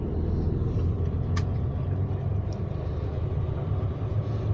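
Airport limousine bus riding from Narita Airport to Tokyo, with a steady low engine rumble and road drone inside the cabin, plus a brief sharp click partway through.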